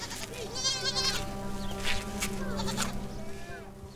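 Goats and sheep in a Bedouin herd near Petra bleat repeatedly, overlapping wavering calls from several animals at close to middle distance over a steady outdoor background.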